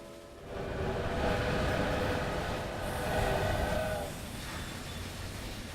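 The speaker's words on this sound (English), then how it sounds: "You can see all the trains moving back and forth" Trains in the Railway Empire game rumble steadily, with a continuous rail roar and carriage noise that swells and then eases off, with no voices over it.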